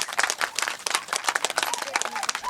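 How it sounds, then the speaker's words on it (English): A small group gives a short round of applause for Catherine at an informal dog park gathering, quick scattered claps close by with a few voices and cheers mixed in. "have a round of applause for Catherine"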